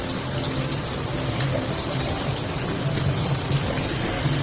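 Tap water running steadily into a cooking pot for a home-cooked dish on a rainy day, a continuous close splashing fill with no talk.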